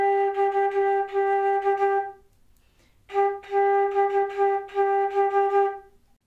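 Solo flute playing a phrase from a song in triplet rhythm, clear repeated notes in two bursts separated by a short pause, with no talk.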